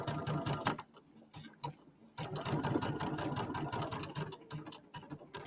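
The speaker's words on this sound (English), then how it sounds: "I'm going to stitch across here." Sewing machine stitching across a quilt block, a busy run of rapid mechanical ticking that stops briefly near the start, then resumes and runs steadily close by.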